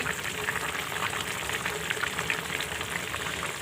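Fish curry broth with fried fish added comes to a boil in a pot, giving a steady, soft bubbling hiss that stays faint and even throughout, with no talking.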